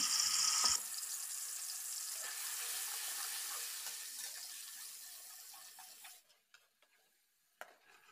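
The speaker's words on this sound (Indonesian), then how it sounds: "Haluskan semua bumbu ini, lalu tumis sampai dengan matang ya." Ground spice paste for ase soun cabe hejo sautéing in a pan, with a steady soft sizzle and stirring scrapes that fade out toward the end, followed by a brief clink.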